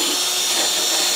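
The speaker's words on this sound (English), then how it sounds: "I've been using my little drill with a little wire wheel, literally just like so" A small handheld drill fitted with a wire wheel strips old paint off a Hayter 41 lawnmower, giving a steady, loud high-pitched whirring grind that holds without a break, heard close up and alone.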